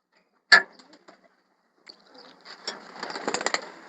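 Pigeons being let out of their loft give a sharp flutter or call, then a few soft sounds, followed by quiet cooing and light rustling that gradually builds and thickens.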